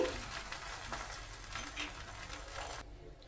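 Tempering of curry leaves, dry red chillies and garlic frying in oil, a soft, even crackling sizzle with light stirring that cuts off abruptly near the end.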